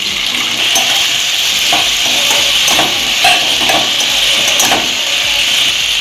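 Eggplant pieces sizzling in an oiled pan for a dried fish curry, a steady bright fry hiss with intermittent stirring scrapes and clinks close up.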